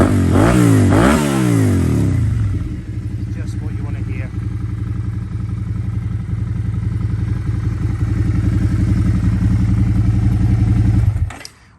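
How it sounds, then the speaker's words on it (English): Suzuki SV650 V-twin motorcycle fitted with an MIV carbon exhaust, revved hard in quick rising and falling bursts, then settling into a loud, throbbing, steady engine note close by for several seconds before cutting off. "Now that MIV carbon exhaust there has really opened up that amazing V-twin sound."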